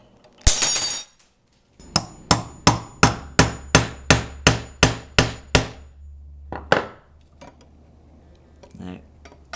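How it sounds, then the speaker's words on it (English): A hammer re-rivets the metal pull rod of a toddler drum kit: about a dozen sharp, ringing metallic strikes at a steady pace, close and loud, after a brief scrape. "So I'm going to pull this off and re-rivet it."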